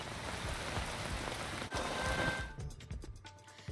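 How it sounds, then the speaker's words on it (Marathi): Heavy rain pouring steadily in Wani, Yavatmal, a dense continuous hiss of drops on surfaces that eases toward the end, leaving scattered individual drips. "यवतमाळच्या वणीमध्ये जोरदार पाऊस पडलाय"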